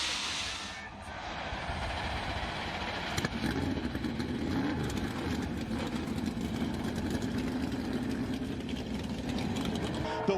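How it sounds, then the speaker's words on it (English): Stock car engines fire up at the Daytona 500, a dense continuous engine rumble filling the grandstand setting, steady and moderately loud with crowd noise blended in. "Daytona 500. Start your engine!"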